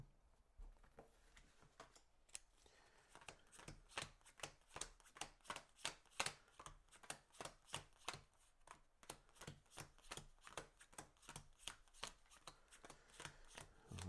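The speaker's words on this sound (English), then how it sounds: "So we'll shuffle those all in." Cards for the Spirit Island board game are shuffled in a quiet solo session, producing a rapid, steady run of soft riffling flicks that continues throughout at close range.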